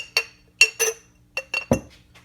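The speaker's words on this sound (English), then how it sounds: "And we'll carefully set it down in this glass jar." Small engine hydraulic lifter from a Duster 360 set down in a glass jar, giving several bright glassy clinks and taps in quick succession, close and clear with no talk.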